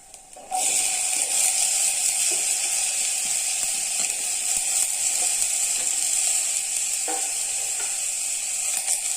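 Ivy gourd pieces drop into a pan of frying grated coconut, and a steady close sizzle follows, with faint scraping and stirring clicks from the pan.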